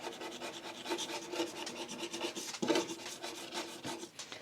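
Someone scrubs a glass cooker hob up close with short, rhythmic rasping rubs that repeat quickly in a fairly quiet, dry scratching pattern. No speech is heard over the rubbing.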